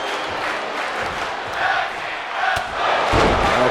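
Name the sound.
crowd chanting in the video game WWE 2K24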